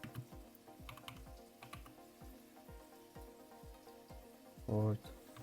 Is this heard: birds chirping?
no